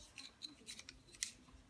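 Scissors snip through croissant dough in a few soft, quick cuts, faint and close with short gaps between them.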